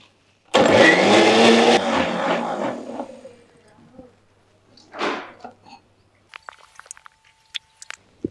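A blender grinds a coconut and snake gourd mixture in a loud burst of about a second, then winds down and fades. Quieter clicks and handling sounds follow, and a voice speaks briefly.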